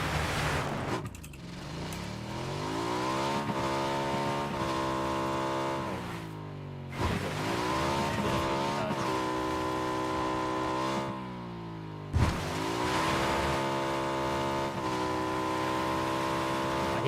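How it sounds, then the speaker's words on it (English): A car engine drives nearby in a video game, droning steadily for the whole stretch. Its pitch rises and falls with gear changes and shifts in speed, fairly loud and with no voices over it. "I hear a car here. They're behind us to the right a bit."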